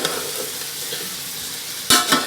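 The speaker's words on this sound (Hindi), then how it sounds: "चिकन फ्राई कर लेते हैं।" Chicken pieces fry with golden-browned onions in a pan for a Sindhi chicken pulao, a constant sizzle broken by a loud scraping stir toward the end.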